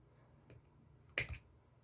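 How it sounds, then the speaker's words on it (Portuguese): White knitting yarn is snipped with scissors, a single sharp close snip after a faint earlier click, set against near silence. "Já posso cortar o meu fio branco."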